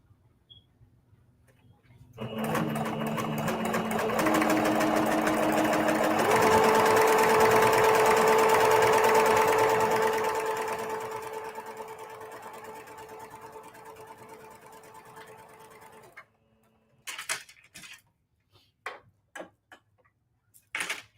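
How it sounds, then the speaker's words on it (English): A sewing machine stitches a straight line through quilting fabric, a fast steady whirring run of about fourteen seconds that rises and then eases before stopping, followed by a few scattered handling clicks. "I'm going to sew just a straight line"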